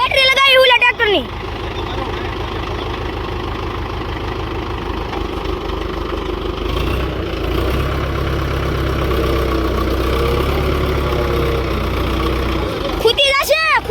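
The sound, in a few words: tractor engine running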